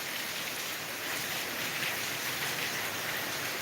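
Heavy rain pours down steadily in Latur district under a red alert, a dense continuous hiss of drops hitting surfaces at even loudness throughout, with no voices.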